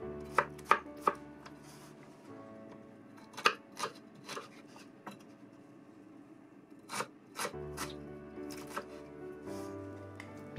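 Garlic and ginger being chopped on a board: quiet, irregular knife taps come in short bursts with pauses in between.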